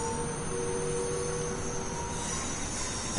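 Class 390 electric train traction motors in the Train Sim World 5 game, heard from outside as a steady running rumble with sustained whining tones above it, continuous and fairly loud.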